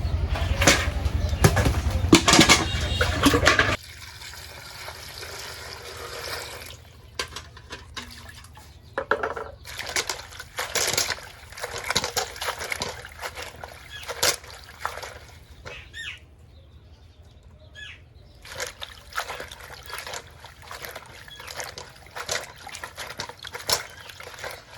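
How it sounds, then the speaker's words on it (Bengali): Jute leaf greens being washed by hand in water, a loud splashing burst at first, then quieter sloshing, dripping and rubbing of wet leaves in irregular bursts close by. "এই শাকগুলো এখন আমি ধুয়ে নিই।"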